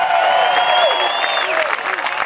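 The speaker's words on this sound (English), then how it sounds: "Give yourself a big round of applause." Crowd at a rally applauding and cheering for themselves, a dense, continuous wash of clapping with sustained whistles or shouts riding on top, loud and close throughout.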